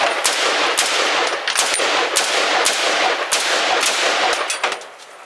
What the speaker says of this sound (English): Armalite AR-10 first shots.